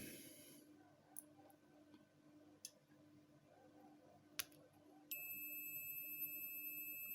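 A steady, high multimeter continuity beep on sine-wave transistors in a Q-Power MAX II 8000 starts partway through and holds, preceded by a few isolated clicks over a quiet electrical hum.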